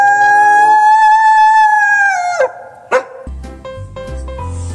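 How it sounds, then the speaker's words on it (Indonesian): A wolf in the video game Jurassic World Evolution 2 gives a long, steady, tonal howl that breaks off into a couple of short yelps, followed by soft game sounds. "Ada serigala."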